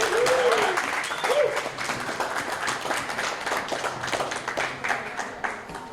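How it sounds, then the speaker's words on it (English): Applause fills the room at a holiday party, a steady wash of many hands clapping at moderate volume, with a few voices and cheers rising over it. "I would like everybody to give a round of applause for every member and staff member"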